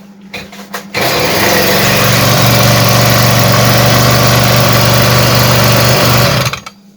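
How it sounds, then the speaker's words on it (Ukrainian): A Stihl BG 50 leaf blower's small two-stroke engine starts up outdoors and runs at a loud, steady high-pitched drone for several seconds before cutting off abruptly. "Дуйка готова. На жаль, запускаю її на вулиці."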